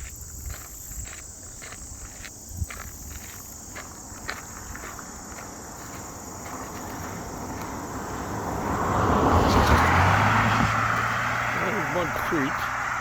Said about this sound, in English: as I got a car coming by.